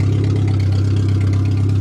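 Suzuki Swift 1.3 car engine idling steadily, a low, even, continuous rumble heard up close with no talking.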